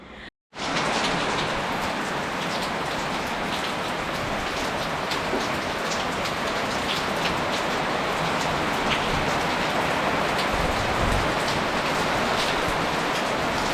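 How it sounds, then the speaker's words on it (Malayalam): Afternoon rain pours steadily on a rainy day, a dense, even hiss of falling drops that starts after a brief silent moment and stays loud and continuous throughout, with no talking. "ഇപ്പോൾ ഉച്ച കഴിഞ്ഞപ്പോൾ വീണ്ടും മഴയായി"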